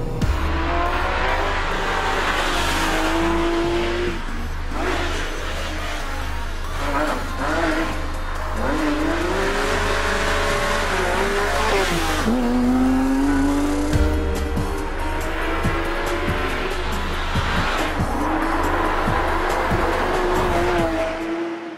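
A Porsche 911 GT3 RS is driven hard, its engine revving up and down through rising and falling pitch sweeps with tire noise, loud and close from start to finish.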